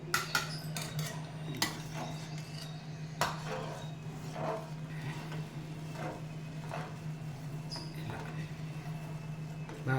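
A spoon stirs rava kesari, semolina cooking in milk in a pot, with irregular light scraping and clinking against the metal over a steady low hum from the stove.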